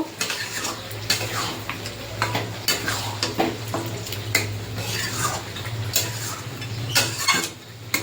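Chicken sautéing in a pan, stirred with a metal utensil; steady sizzle under frequent scraping clinks of spoon against the pan, close and continuous with no talking.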